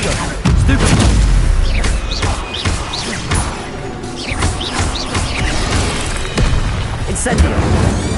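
Incendio fire spell blasts booming in Hogwarts Legacy gameplay during a fight with spiders, loud repeated whooshing bursts and thuds over continuous game noise, with a voice talking throughout.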